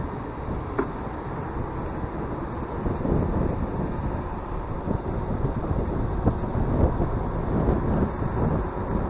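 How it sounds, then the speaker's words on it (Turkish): Steady headwind buffets the microphone during a ride from Bahçelievler to Galataport in Istanbul, in a continuous broadband rush, with a low rumble underneath and no voices. "Rüzgar karşımdan esiyor."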